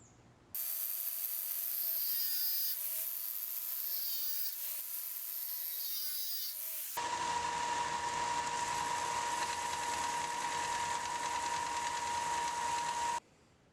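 Grinding the pins off a knife handle on a grinder: a steady, whining mechanical drone with shifting tones, then a louder, harsher continuous grind in the second half that cuts off abruptly near the end.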